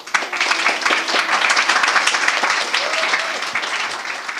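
Lecture audience applauding to welcome a speaker, loud and continuous clapping from many hands that holds steady and then thins slightly at the end.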